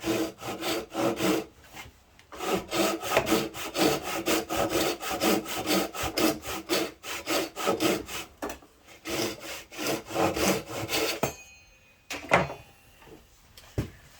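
A hand saw cutting a half lap joint in a wooden workpiece, quick rhythmic back-and-forth rasping strokes close by, pausing briefly twice before a few final strokes and a clatter.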